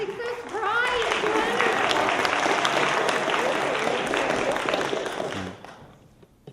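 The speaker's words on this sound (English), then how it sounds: "The man upstairs deserves the applause" An audience gathered to hear a Holocaust survivor speak claps steadily for several seconds, dense and moderately loud, with a voice briefly heard at the start before the applause fades out.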